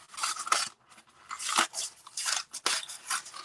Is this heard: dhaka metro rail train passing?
no